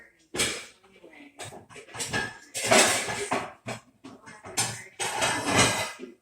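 Plates and cookware clatter and clink in a home kitchen while cornbread is being turned out onto another plate, with several loud bursts of dish handling spread across the clip amid some background sound.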